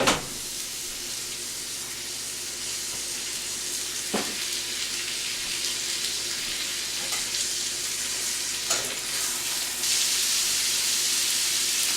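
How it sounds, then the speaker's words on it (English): Hamburger meat frying in oil in a pan as chili is made at home, giving a steady close sizzle and hiss throughout, with a few brief clinks and a louder burst of sizzling near the end. "A little bit of oil in a pan. Go ahead and put a burger in."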